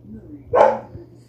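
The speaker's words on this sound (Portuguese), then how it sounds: "parece que o cachorro tá latindo dentro do quarto" A neighbouring dog barks once at night, heard indoors from next door, a single sharp bark fairly close and loud against a quiet background, with a faint voice near the start.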